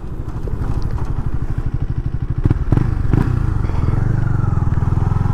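A KTM Duke 390 motorcycle rides along with a loud, close, pulsing single-cylinder engine, revving and dropping through gear shifts, with a few clunks and thumps partway through.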